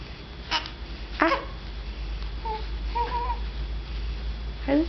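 A baby coos and babbles in short, soft vocal bursts spread across a few seconds, over a constant low hum in a quiet indoor room.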